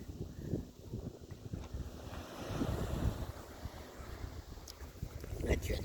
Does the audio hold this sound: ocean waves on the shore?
yes